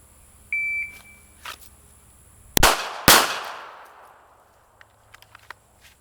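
Handgun fire on a US Navy qualification range: a short electronic timer beep, then two loud, sharp shots about half a second apart, each ringing off in a long decaying echo, followed by faint scattered clicks.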